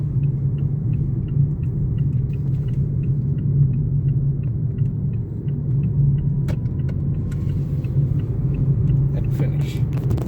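A car approaches a roundabout with a steady low engine rumble and road noise throughout, a turn signal ticking rhythmically, while a person talks over it.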